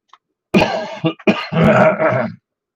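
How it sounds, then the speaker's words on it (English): Several harsh, loud coughs close to the mic over a 146.415 FM amateur radio net, a short burst followed by a longer rasping fit, with no talking. "I had a cough there."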